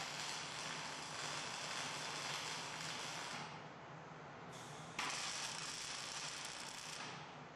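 Tack welds are laid on a steel hog nipple waterer frame, each giving a steady, loud crackling buzz: one long burn, a short break, then a second burn.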